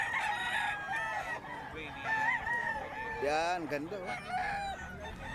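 A Tornado Hatch gamefowl bullstag crows several times at close range among other roosters at a market in Bocaue, Bulacan, with someone speaking over the calls.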